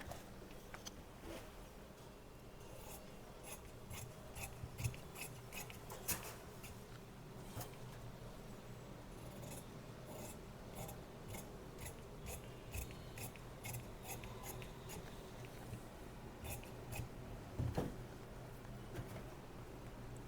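Scissors snip steadily through blouse fabric during tailoring, a fairly quiet and close series of regular crisp cuts with faint rubbing between strokes.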